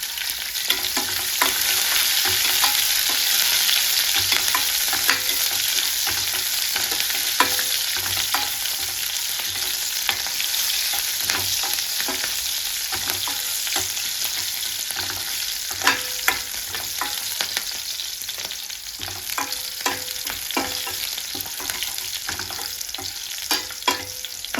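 Chopped green chillies and garlic fry in hot oil, a constant crackling sizzle close by with scattered popping and occasional stirring sounds throughout.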